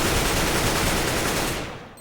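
Rapid automatic gunfire from Counter-Strike: Global Offensive rattles as a dense, loud, continuous burst that fades out near the end, with no talking over it.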